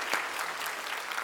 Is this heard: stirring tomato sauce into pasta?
no